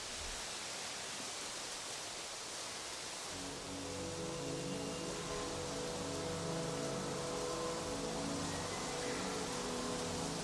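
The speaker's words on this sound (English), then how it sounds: "And the eternal rain." Heavy rain pours down steadily in a rainforest, making a dense, loud hiss, and a low rumble joins in partway through.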